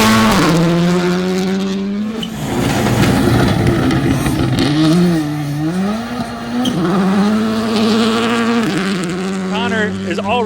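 A rally car at a forest rally revs and launches with loud, high, buzzing engine notes that climb and fall through gear changes, heard close alongside tire noise and crowd voices in the background.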